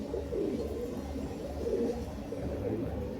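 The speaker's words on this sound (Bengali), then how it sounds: "দেখুন পায়রা স্ট্যান্ডিং, দেখুন পায়রা" Standing pigeons of a breeding pair, a male and a female, coo in low, repeated rolling phrases nearby. The soft pulses continue without a break and no one speaks.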